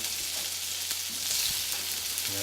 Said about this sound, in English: We're gonna start with half a pat of butter into each pan.